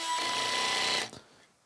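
A drill set to low clutch setting 1 drives a 50mm screw into a soft wooden banister spindle, a close, busy whir lasting about a second before cutting out and fading into quiet.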